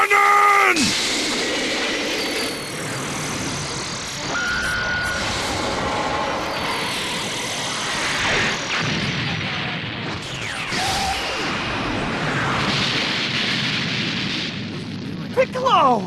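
A long, roaring Special Beam Cannon energy blast in a video game, with swelling whooshes and rumbling bursts over several seconds, mixed with game sound effects and a voice shouting.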